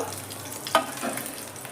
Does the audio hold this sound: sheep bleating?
no